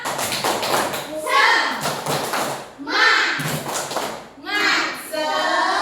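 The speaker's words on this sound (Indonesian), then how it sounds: "Tepuk semangat" Second-grade schoolchildren in a classroom doing a rhythmic spirit clap, bursts of patterned clapping and short chanted group responses alternating with a teacher's voice.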